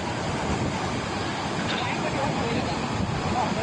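Water rushes through the opened gates of the overflowing Shetrunji Dam near Palitana after heavy rain, a continuous dense roar mixed with buffeting wind on the microphone.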